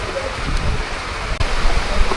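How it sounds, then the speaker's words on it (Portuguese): Heavy rain pours down during an outdoor fishing trip, a steady dense wash of drops that stays loud and continuous throughout, with no talking. "Gente, muita chuva por aqui, como vocês podem ver aí"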